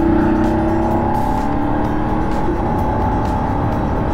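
A 2023 BMW F 850 GS Adventure Rally motorcycle engine runs loud and steady nearby, its pitch rising and shifting as it revs through clutchless quickshifter gear changes, with no talking.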